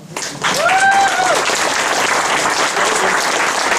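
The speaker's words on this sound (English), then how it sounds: "Another round of applause." An audience at a flood forestry presentation in Grand Forks applauds loudly and steadily, a dense wash of clapping that fills the room after a brief spoken moment at the start.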